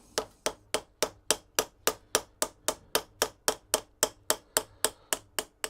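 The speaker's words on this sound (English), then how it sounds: "bashing it round and round with the ball end of the ball peen hammer" The ball end of a ball peen hammer strikes an old kitchen knife's metal in a steady, even rhythm, about twenty sharp ringing blows, loud and close with no talking.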